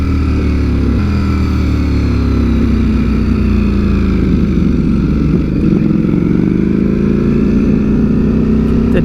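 Ducati Streetfighter V4S engine running loud and close for the whole stretch, a dense, constant roar with a slowly shifting pitch and no talking.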